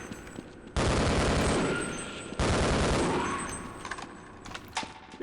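Two loud, close bursts of rapid assault rifle gunfire in the Half-Life video game. Each volley hits at full force and then tails off, with a pause between them.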